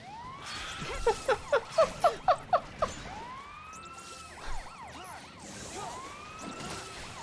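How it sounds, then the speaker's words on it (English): A siren in the video game Final Fantasy XIII gives a rapid run of loud, pulsing yelps, then settles into long rising and falling wails under a steady hum of engine noise. "The siren on the heel is so funny."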